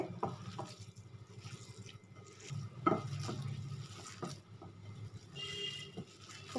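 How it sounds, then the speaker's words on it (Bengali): Chicken kofta mixture with gram flour being kneaded by hand in a bowl, giving soft, wet squelching and light scraping in close, irregular strokes with occasional clinks against the dish. "এখন সবগুলো খুব ভালো করে আমি মেখে নেব"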